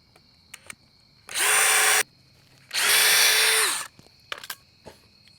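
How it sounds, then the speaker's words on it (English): A power drill driving 1 1/4 inch exterior screws into wood whirs in two short, loud bursts close by, with light clicks and knocks of handling between and after. "I have 1 1/4 inch exterior screws and my drill."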